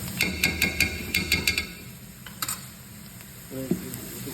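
Ginger garlic paste frying with browned onions in a hot pan, a soft continuous sizzle broken by a quick run of sharp spatula scrapes and taps early on, then a few scattered clinks.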